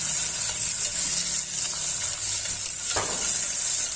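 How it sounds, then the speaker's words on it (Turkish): A piece of butter dropped into a pan of zucchini gives a continuous bright sizzle at an even level, with one short louder spit near the end. "bir parça da tereyağı atıyorum"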